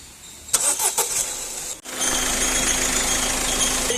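A Ford EcoSport with a vibration noise from the engine bay and a loose intercooler starts up: a few sharp cranking bursts, a brief pause, then the engine catches and settles into a steady, close idle.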